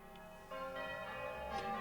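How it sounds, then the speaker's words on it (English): Church and chapel bells chime in a Christmas Carol theatre performance, with layered tones that swell and overlap steadily at moderate loudness and no speech over them. "church and chapel bells ring out"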